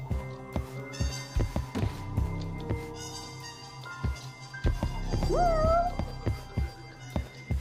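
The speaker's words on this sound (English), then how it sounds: "Whoa, a cat? More cats?" A cat meows in the video game Judgment: one short meow that bends in pitch, heard amid soft footsteps and light taps.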